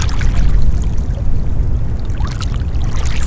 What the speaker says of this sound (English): He heard the cool, rushing sounds of the great forest river.